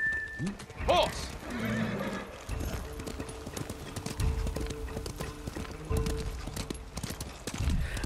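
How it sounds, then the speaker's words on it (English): A summoned horse in the video game Ghost of Tsushima gallops with steady clip-clop hoofbeats and lets out a loud, close whinny near the start, with a brief voice heard over the hooves. "every time we summon the horse"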